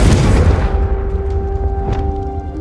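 A Confringo spell explodes in Hogwarts Legacy with a single loud, deep boom that rolls away into a fading rumble and a thin ringing tail.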